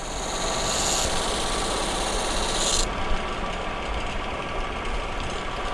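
Steady hand rubbing and polishing of a sanded guitar back plate cover, a continuous close rasping friction that changes tone partway through, with no talk.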